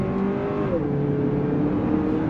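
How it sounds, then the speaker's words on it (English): The turbocharged engine of a 2022 Lexus NX 350 F Sport with all-wheel drive and an 8-speed automatic pulls hard under throttle, its steady rising drone dipping once as the gearbox shifts. "Plenty of pep from that turbocharged engine."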